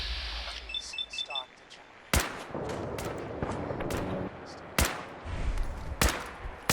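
Gunfire from a companion in Fallout 4: several sharp, loud shots at irregular intervals amid other game effects, with someone talking in between.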